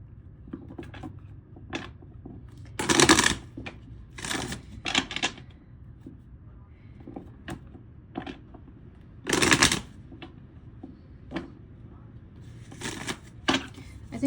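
Tarot cards being shuffled by hand in repeated bursts of riffling, with several louder flurries standing out, while a person talks quietly in between.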